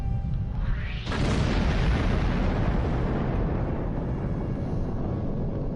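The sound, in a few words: Romulan Deradex warship exploding in Star Trek Online video game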